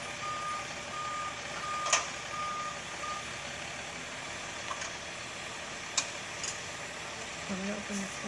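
A truck's reversing alarm beeps in a steady intermittent pattern during a stuck-truck recovery, moderately distant over a broad outdoor rumble, with occasional clicks and knocks.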